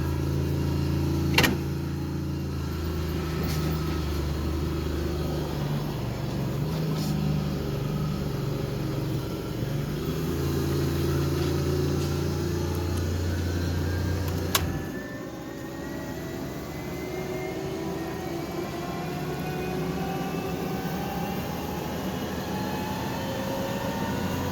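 A one-ton truck pulls a loaded trailer uphill, its engine droning steadily under road noise. The pitch climbs gradually in the second half after a brief shift-like break.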